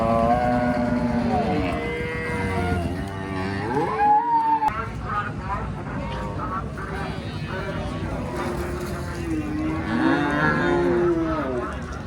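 Friesian cow with her calf at a busy cattle market, lowing moos rising above steady loud crowd chatter and bargaining voices throughout.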